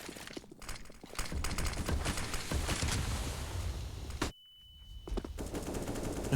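Gunfire during a professional Counter-Strike match, with rapid, sharp shots in dense bursts over crowd and game noise, followed by a brief drop to near silence and then scattered further shots.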